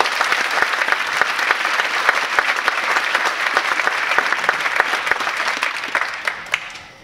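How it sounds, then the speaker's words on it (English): Enthusiastic audience applause welcoming a speaker on stage at an Ignite talk event, many hands clapping densely and evenly with sharp individual claps standing out, sustained before fading at the end. "Let's have a big round of applause for Tom Crawford."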